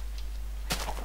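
A Minecraft chicken giving a short cluck near the end, brief and fairly close over a low steady hum.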